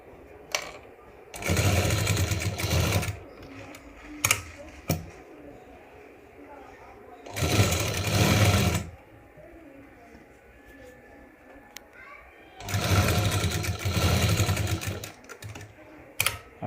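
Sewing machine stitching a homemade cloth face mask, heard in three sustained bursts of a few seconds each, separated by quieter pauses with faint clicks.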